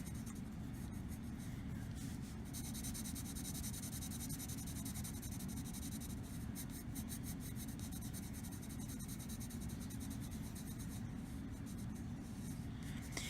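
Steady, soft scratchy strokes of an Xpassion Art brush pen colouring a small flower on paper, continuing close up with no voices.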